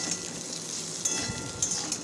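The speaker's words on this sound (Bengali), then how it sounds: "আর এদিকে আলু ডুমো ডুমো করে কেটে ওগুলো ভাজিয়ে নিচ্ছি" Diced potatoes frying in oil with salt and turmeric: a steady, close sizzle with faint crackles and a few light stirring clicks, no talking.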